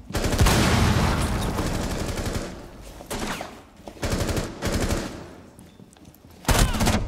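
Rapid automatic gunfire bursts from a Rainbow Six Siege match, loud and close, with dense rattling volleys broken by short pauses and a final sharp burst.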